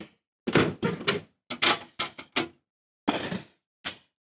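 Drawers on a 56-inch US General tool chest are pulled open and pushed shut in quick succession, each a short metallic sliding rumble ending in a thunk, separated by brief silences.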